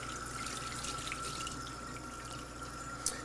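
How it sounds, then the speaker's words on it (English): Water runs from a kitchen tap over salt-covered meat being rinsed, a steady, soft hiss and splash with a faint drip near the end and no voices. "Get a good rinse."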